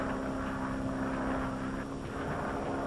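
An airplane flying, with a steady propeller-engine drone holding at a constant, moderately loud level throughout and no voices over it.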